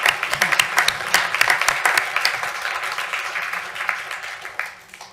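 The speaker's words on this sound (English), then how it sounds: "Round of applause for Jamie." A township public hearing audience claps after a comprehensive plan presentation, a modest room's worth of distinct, fairly close hand claps that gradually thin and fade.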